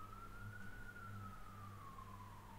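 A faint ambulance siren passes outside, one long, steady wail that drifts slightly in pitch, heard distantly through a room.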